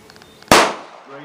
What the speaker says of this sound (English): You can see there's very, very little recoil with the 22 long rifle